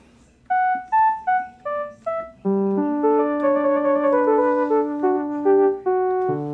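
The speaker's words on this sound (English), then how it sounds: "I wanted to use like a flute sound from the Juno 60 as well." A Juno 60 synthesizer flute patch plays a melodic line: several short detached notes at first, then a sustained, overlapping legato phrase of clear, breathy tones, loud and close with no voices.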